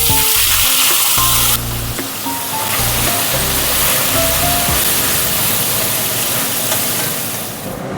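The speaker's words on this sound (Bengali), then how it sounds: "তেলটা গরম হয়ে গেছে, এবার মাছগুলো চলুন ভেজে নিই।" Small fish rubbed with salt and turmeric fry in hot oil, giving a loud steady sizzle with a few utensil knocks early on and a bright crackle that swells after the first couple of seconds.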